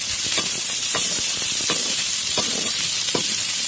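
Onions sautéing on a dosa griddle for chutney give a steady, loud hiss and sizzle, broken by faint scraping stirs at irregular intervals, with no voices.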